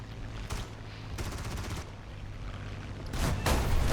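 A 45 mm gun fires at an enemy aircraft in a World War II combat game featuring the T-34-85 and Yak-9: several rough bursts of shots stand out over a steady engine drone and grow louder near the end, with no speech.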